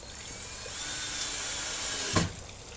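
A power drill drives screws into an awning support beam, giving a steady high whine close by that ends in a short, louder burst as the screw seats, with no voices.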